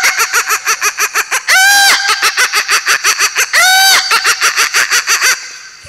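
A man on a comedy stage imitates a rooster with his voice, giving two long, loud crowing calls over a steady, rhythmic background beat.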